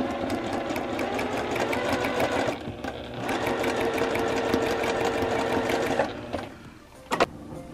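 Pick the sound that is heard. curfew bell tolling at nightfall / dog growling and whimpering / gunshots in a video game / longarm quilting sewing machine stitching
longarm quilting sewing machine stitching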